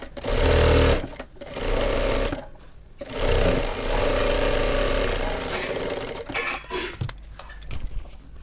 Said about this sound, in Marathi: त्यावर आता प्रेस टिप घेऊन घ्यायची